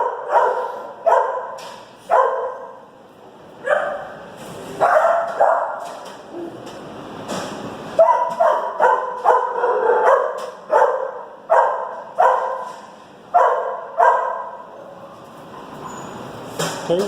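Dogs in an animal shelter bark repeatedly in sharp, echoing volleys, some rapid and clustered, others spaced a second or two apart, fairly close and loud throughout.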